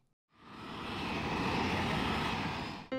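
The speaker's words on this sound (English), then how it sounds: "One orange airplane." An orange cartoon airplane's engine rises from silence into a loud, steady drone that holds evenly and then cuts off abruptly.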